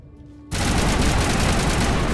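Automatic turret fire in Mass Effect Legendary Edition: after a quiet moment, a sudden loud, dense stream of rapid gunfire bursts in and continues without pause.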